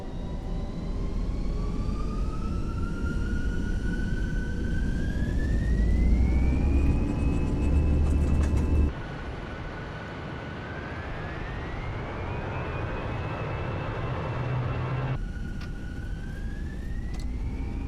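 Fenix Airbus airliner engines spooling up to takeoff power on the runway at the start of a departure toward Ivalo in Microsoft Flight Simulator 2020: a loud, continuous roar with a rising turbine whine that climbs and then holds steady.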